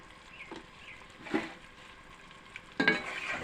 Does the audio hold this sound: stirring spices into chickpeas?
yes